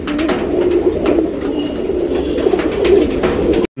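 Pigeons coo steadily and close by, a continuous low warbling layered from several birds with no break until it cuts off abruptly at the very end.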